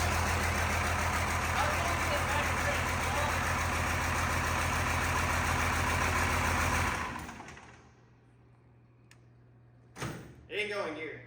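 Cummins-swapped squarebody truck with a diesel engine running loud and steady for about seven seconds, with a strong low rumble, then cutting off and leaving near quiet, followed by faint clatter and brief talk.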